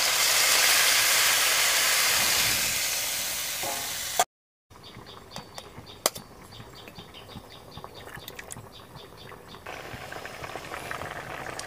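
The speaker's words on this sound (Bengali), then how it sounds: "কাঁচা লঙ্কা দিয়ে একটু নেড়ে চেড়ে এখন দিয়ে দিচ্ছি জল।" Water hits a hot pan of sautéed green chillies and bursts into a loud, steady sizzling hiss for a few seconds, then, after a short break, settles into a softer bubbling simmer with occasional faint pops.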